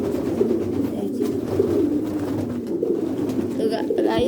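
Pigeons in a loft coo continuously in a deep, rolling drone at close range, the soft throaty calls overlapping, with handling noises and faint voices in the background.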